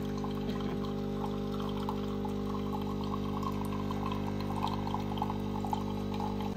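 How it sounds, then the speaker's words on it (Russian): Tap water pours continuously into a container being topped up, a steady near splashing flow heard alone without voices. "Наливается, долили воду."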